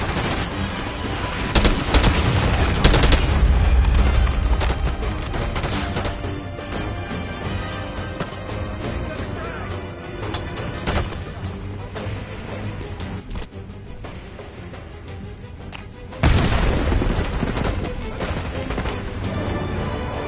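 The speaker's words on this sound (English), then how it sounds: "Mortar on the way." Mortar strikes and gunfire in the Call of Duty Black Ops 6 campaign: a sustained, loud crackle of shots is punctuated by heavy blasts near the start and again toward the end, with no speech.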